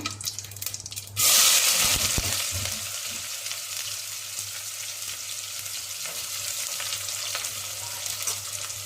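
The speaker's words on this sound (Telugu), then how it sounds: "ఉల్లిపాయలు కొద్దిగా వేగే వరకు" Onions hit hot oil and burst into a loud sizzle that settles into a steady frying hiss, with a low hum underneath.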